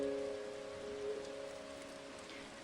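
Rain falls during the monsoon, a soft continuous patter spread evenly throughout, with faint sustained tonal sounds running beneath it.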